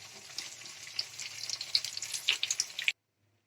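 Cauliflower and egg pakoras, fried until brown, crackle and sizzle in hot oil with small pops, faint and close, before stopping abruptly into silence.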